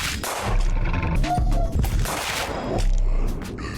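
Gunfire from a gun in the video game Another Crab's Treasure: sharp, loud shots fired in quick clustered bursts with booming low impacts, a brief lull in the middle, then another heavy volley.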